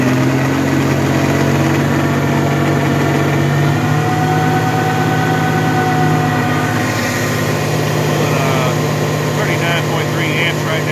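A zero emissions generator runs steadily at 43 hertz and 45 amps with a loud, continuous mechanical hum and drone, close and unbroken throughout.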